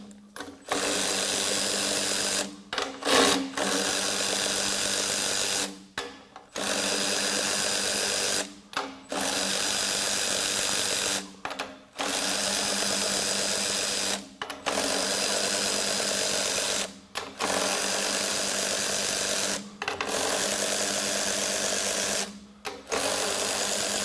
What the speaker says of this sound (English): we're going to switch over to the 4 amp hour battery on the Makita.